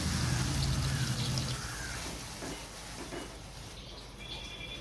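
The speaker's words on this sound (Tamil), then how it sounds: "இப்போ இதில் வந்து ஒரு டம்ளர் அளவுக்கு தண்ணி ஊற்றி ஒரு கொதி வரட்டும்" A tumbler of water pours into simmering tomato chutney in a pan, a broad rushing hiss that is loudest at first and then fades to a softer bubbling.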